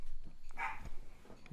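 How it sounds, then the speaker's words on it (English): Dog barks once or twice faintly in the background, a brief yip-like bark in an otherwise quiet room. "I apologize for the dog."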